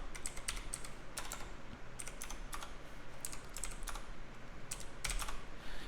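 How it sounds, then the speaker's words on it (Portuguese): Command typed on a computer keyboard, bursts of quick close key clicks separated by short pauses, with no talk. "eu vou digitar o seguinte comando"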